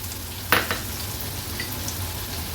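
Finely chopped large onion frying in oil with a pinch of asafoetida, a steady low sizzle with one sharp scrape of a spoon near the start, close by and unaccompanied by speech.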